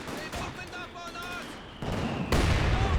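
Mortar shell impact in Company of Heroes 2, a heavy thudding blast that rises out of battle noise near the end, with a voice speaking over the earlier part.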